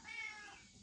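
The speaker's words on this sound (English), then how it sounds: "So you can hear the cats are in here with me." A cat in a garage lets out a single short, faint meow, thin and rising, with no one talking.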